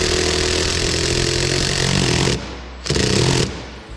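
A power drill with a PH2 bit drives a screw into a carbon fiber mud flap on a Tesla Model 3, a loud, steady motor whine that cuts off briefly and then runs again, close by.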